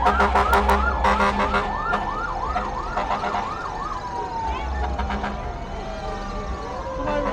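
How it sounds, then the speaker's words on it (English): A fire truck siren wails loudly during a street parade, at first with rapid yelping cycles and then with a sustained falling tone, over crowd noise and engine rumble. "I don't know if the fire truck's the place to be. I wouldn't be able to hear myself think after a while there."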